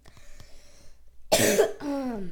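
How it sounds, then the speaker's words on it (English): A single sharp cough, close and loud, follows a few faint clicks and a brief silence, then trails into a short voiced rasp. "Still kind of coughing around here and there."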